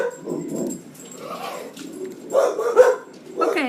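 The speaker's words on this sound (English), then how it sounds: "that's my dog, sorry." A dog barks a few times nearby, short yips and barks heard in a quiet indoor room.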